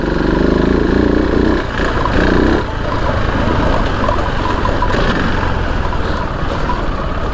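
A KTM 690 Enduro R big single-cylinder motorcycle engine drones steadily and loudly on a rough trail, with a brief dip in revs partway through and a continuous throbbing note alone, no voices.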